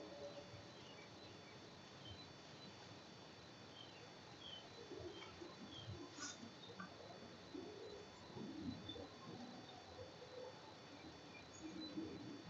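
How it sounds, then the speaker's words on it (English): Birds call softly in the distance on a calm morning, with low dove coos and scattered chirps over faint insect buzz and quiet background hiss. "right now you can hear the birds"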